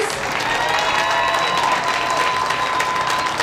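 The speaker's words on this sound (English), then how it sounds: "let's cheer really loud for some really awesome juniors" Crowd applause and light cheering for junior showmanship exhibitors at a county fair livestock show, steady clapping from many hands in an indoor arena with a faint whistle or two.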